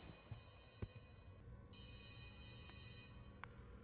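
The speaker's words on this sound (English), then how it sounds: "I heard a phone ring." A telephone rings faintly in a house, heard as a few quiet electronic rings standing alone with a couple of soft knocks.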